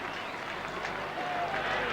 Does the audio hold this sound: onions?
no